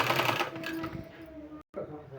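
A sewing machine whirs briefly and softly while stitching a gathered, double-folded sleeve strip, mixed with a woman's speech and cut by a short moment of silence.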